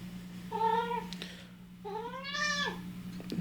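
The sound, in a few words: cat meowing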